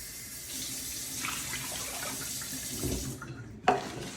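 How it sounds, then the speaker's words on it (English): Water is poured into a cooking pot for rice, a steady close splashing stream that builds and ends with a brief clank of the pot, with no talking. "I'm gonna take 1 cup of water. Add that in your pot"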